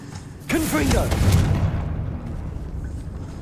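A Confringo spell blast inside a tomb in Hogwarts Legacy: a character's voice rises, then a heavy booming explosion rumbles and slowly fades into eerie ambience.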